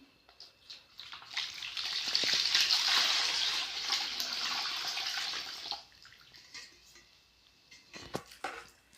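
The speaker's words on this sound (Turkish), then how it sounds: "Şöyle ilk önce sütümü ilave edeceğim." Warmed milk is poured into a bowl for Diyarbakır çörek dough, a steady close liquid splashing stream for a few seconds that then stops, followed by faint scattered kitchen clinks and rustles.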